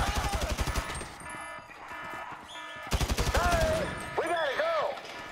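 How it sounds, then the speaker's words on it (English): An automatic gun fires rapid bursts in GTA 5, evenly spaced cracks in two clear volleys, loud and close, with voices and other game sounds in between. "it's an automatic gun?"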